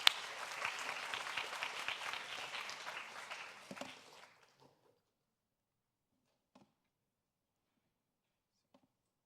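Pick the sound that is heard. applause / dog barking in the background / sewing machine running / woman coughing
applause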